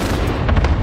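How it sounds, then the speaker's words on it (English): Cluster strike explosions in a first-person shooter video game crash in a dense, continuous barrage of booms and gunfire-like blasts, loud and close throughout the brief burst. "Enemy cluster strike incoming."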